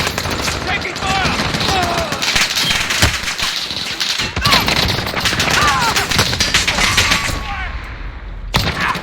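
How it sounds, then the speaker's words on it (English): Heavy video game gunfire, sustained bursts of rapid shots and cracks over about nine seconds, loud and close, with shouted voices and radio chatter in the mix before it cuts off abruptly. "Taking fire!"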